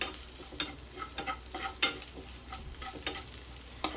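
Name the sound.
stirring salt into the chicken rice in a pan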